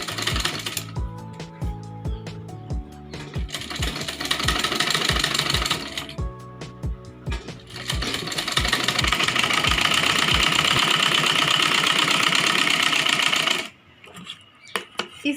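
Sewing machine stitching a Rajputi kanchali blouse, loud rapid needle clatter in bursts with short pauses between runs, then a long continuous stitch that stops abruptly near the end.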